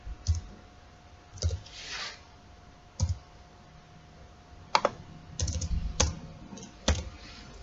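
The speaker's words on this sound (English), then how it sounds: "let me first quickly type this code" Fingers type code on a computer keyboard, producing sparse clicky keystrokes in short irregular clusters, close and moderately quiet against a faint steady hum.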